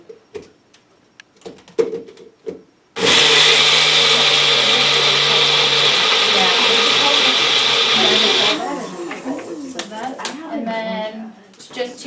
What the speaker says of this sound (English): so you're going to kind of chop this up. I have a little magic bullet